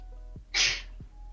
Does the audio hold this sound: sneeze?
yes